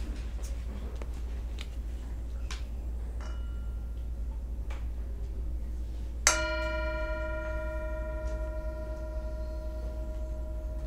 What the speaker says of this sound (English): And I'll invite the bell to sound